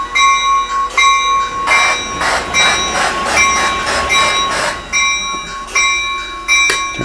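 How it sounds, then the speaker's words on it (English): A model railroad locomotive rings its steady, repeating bell over chuffing steam engine sounds and mechanical rumble, loud and close, with no talking. "I can turn on the bell, put it in reverse, and then reverse the engine."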